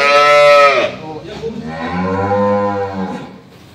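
A loud, drawn-out moo from a calf at a dairy farm, followed by a second lower, rumbling moo; no talking.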